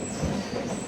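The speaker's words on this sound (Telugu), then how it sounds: "కురిచేడు నుంచి మన ట్రైన్ బయలుదేరింది" A MEMU passenger train pulls out of Kurichedu on the line, a steady, loud rumble of wheels and carriage noise heard from on board.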